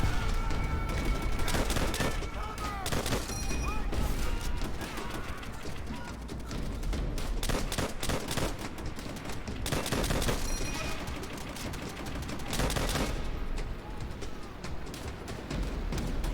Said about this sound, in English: It's a very shitty anti-aircraft gun.